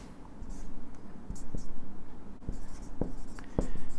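Pen scratching on paper as notes are written, close and steady with small taps and strokes, under a low hum and faint breathy voice sounds.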